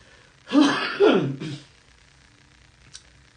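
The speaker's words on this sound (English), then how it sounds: "I'm going to try to do this with as little coughing as possible." A person clears their throat forcefully in two rough bursts, close up, followed by quiet and a faint click.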